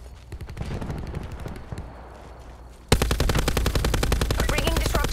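Light machine gun firing in Black Ops 4, long rapid bursts of loud automatic gunfire, first slightly muffled and then suddenly louder and sharper, rattling nonstop to the end.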